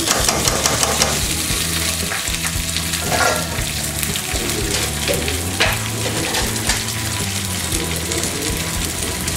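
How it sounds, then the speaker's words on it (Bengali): Rice frying in a pot with cardamom pods, cinnamon sticks and bay leaf over a raised flame for Old Dhaka Hajir biryani. A steady sizzle with occasional stirring scrapes sits under background music throughout. "চার পাঁচটা এলাচ, দুটি দারচিনি, তেজপাতা দিয়ে এবার আমি চালটাকে ভেজে নিব চুলার আঁচটা বাড়িয়ে দিয়ে।"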